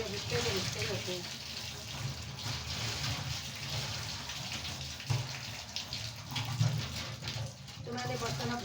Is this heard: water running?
yes